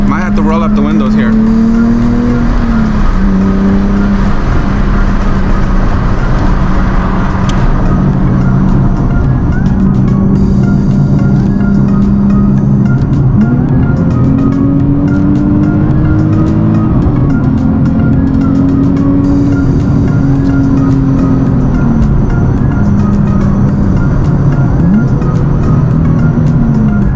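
A Nissan 370Z with an ISR Y-pipe and single exit exhaust cruises on a freeway, its loud exhaust drone rising and falling with shifts and throttle, with someone talking over it throughout.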